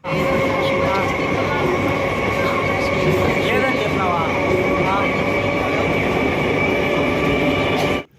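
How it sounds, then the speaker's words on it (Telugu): Steady rumble of a train carriage in motion, with constant low droning and faint squeals and rattles throughout, loud and close. "లాస్ట్కి అయితే మనం ట్రైన్ ఎక్కేసినాం అనమాట"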